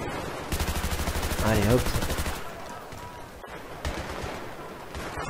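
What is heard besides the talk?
gunfire from video game Battlefield 3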